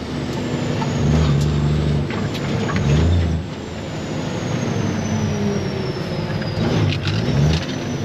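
A truck rolls along with a steady engine drone and road noise, with braking heard as air-brake hisses and a descending whine as it slows, the engine swelling and easing in between.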